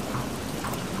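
A cartoon storm of heavy, steady rain mixed with a low thunder rumble, loud and continuous for a short burst with no voices.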